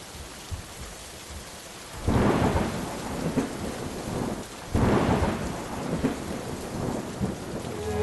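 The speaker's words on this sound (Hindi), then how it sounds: "यहाँ तो बाहर बारिश हो रही है" Steady rain falls outdoors with two loud, rolling thunderclaps, one at about two seconds and another near the five-second mark, each swelling and fading back into the constant downpour.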